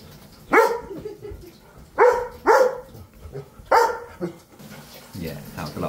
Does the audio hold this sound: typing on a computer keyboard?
no